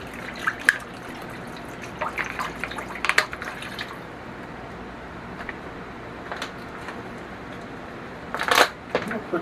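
Spring water trickles and splashes into a cooking pot for beef stew, a soft steady pour with scattered drips and clinks, quiet and close, with a louder splash near the end.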